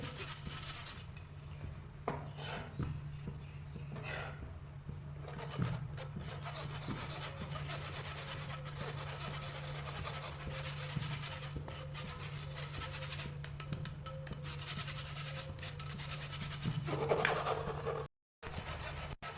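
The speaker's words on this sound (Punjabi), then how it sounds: "ਜਿਹੜਾ ਆਪਾਂ ਡਰਾਈ ਰੋਸਟ ਕੀਤਾ ਹੋਇਆ ਸੀ ਆਟਾ ਉਹਨੂੰ ਆਪਾਂ ਛਾਣ ਲਵਾਂਗੇ ਚੰਗੀ ਤਰ੍ਹਾਂ" Dry-roasted wheat flour is worked through a kitchen sieve for barfi, giving a steady, close scratchy rubbing that runs almost continuously with a brief break near the end.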